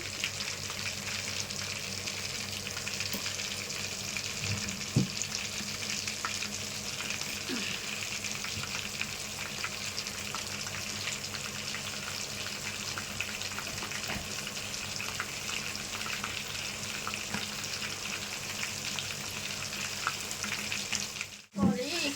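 Whole chicken joint frying slowly in hot oil, a steady dense sizzle running throughout with faint stirring knocks, close and continuous, with no talking.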